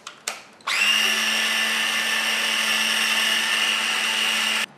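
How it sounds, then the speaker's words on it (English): A blender whirs steadily at high speed while pureeing an olive stuffing paste for Italian stuffed olives, starting after a couple of brief knocks and running loud and constant before cutting off. "let's get this out of the blender and to our next step"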